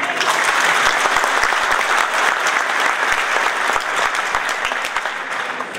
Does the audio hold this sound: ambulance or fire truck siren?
no